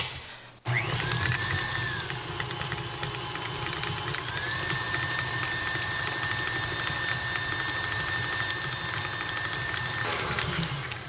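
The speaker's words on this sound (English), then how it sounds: "So let's get this butter whisking." An electric mixer whips butter for buttercream frosting, starting abruptly and running as a loud, steady whir with rattling beaters until it eases off near the end.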